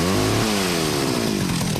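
A chainsaw starts and revs hard on a quiet night, a loud close engine snarl with a falling pitch that settles into a rough, throaty idle.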